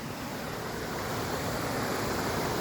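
Rushing water of the Hothfield waterfall, fed by an overflowing lake, a steady loud broadband roar without pause, close by, no voices.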